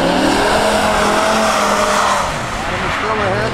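Racing cars on a lap roar loudly and continuously, engines and tyres blending into a dense, close rush as one car slides sideways, with a commentator talking over them.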